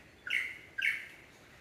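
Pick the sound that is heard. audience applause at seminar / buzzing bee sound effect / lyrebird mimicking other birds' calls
lyrebird mimicking other birds' calls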